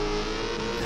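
A car engine revving loudly and steadily, close by, with a dense roar and no talk over it.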